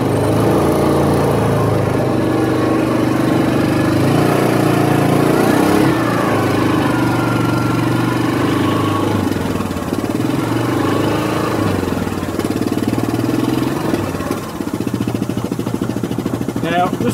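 A Yamaha Viking side-by-side climbs a steep bank off road, its engine droning loudly and steadily while a person talks over it.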